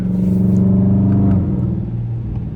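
A Scat Pack car's engine drones loudly and steadily from inside the cabin while sliding through turns in snow, then eases to a lower, rougher rumble partway through.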